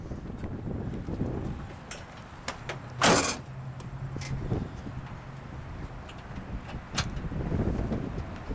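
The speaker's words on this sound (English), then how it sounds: "Let's shut the hood." The hood of a 1969 AMC Hurst SC/Rambler slams shut in one sharp, loud thud near the middle, with softer clicks and faint outdoor background around it.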